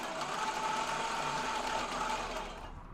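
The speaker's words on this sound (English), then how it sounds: "It's running both tracks, but they're not running at the same speed." Tracks of a 1/6 scale Armortek RC Tiger 1 tank running at unequal speeds, a steady mechanical whir and hum with a held mid tone, continuous and fairly close, easing slightly near the end.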